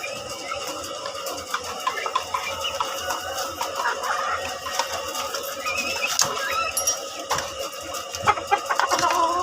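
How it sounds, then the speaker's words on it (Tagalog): Chickens cluck and call close by in a busy farmyard, the clucks coming steadily over a dense wash of background noise with no clear talk. "Ayan, manok na yan o."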